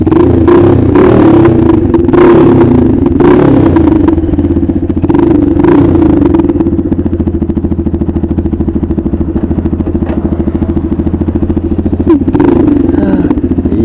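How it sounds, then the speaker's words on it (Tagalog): A motorcycle engine idles close by with a steady, throbbing putter, a few clattering knocks and revs early on before settling into an even rumble. "Ito na yung ating motor"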